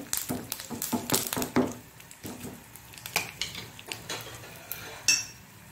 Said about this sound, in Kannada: ಹಾಕೊಂಡು ಇದನ್ನು ತಿರುಗಿಸ್ಕೊಳ್ಳೋಣ ಸ್ವಲ್ಪ. ಬೇರೆ ಏನು ಬೇಡ, ಸಿಂಪಲ್ ಆದ ಒಂದು ಒಗ್ಗರಣೆ ಇದಕ್ಕೆ